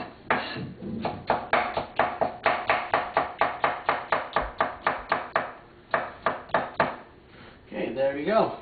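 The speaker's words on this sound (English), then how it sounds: "We've got our scallions chopped." A knife chopping scallions on a cutting board in quick, evenly spaced strokes, a run of rhythmic close taps with brief pauses, ending with some faint background voice-like sound.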